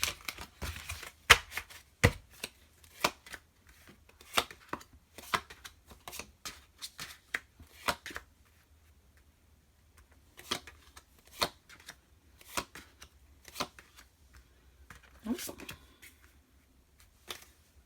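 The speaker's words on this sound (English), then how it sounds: "Okay, I'm going to split the deck." A tarot card deck being shuffled and split by hand, giving quick riffling flutters and soft card snaps in uneven bursts, close and fairly quiet with short pauses between.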